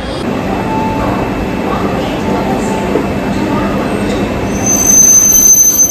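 Train rumble and steady mechanical noise at Kacheguda railway station in Hyderabad, loud and continuous with a faint high squeal near the end and indistinct voices in the background.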